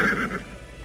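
A horse whinnies once, a brief, faint neigh close by that fades within a second.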